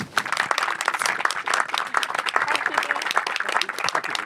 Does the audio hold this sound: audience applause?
yes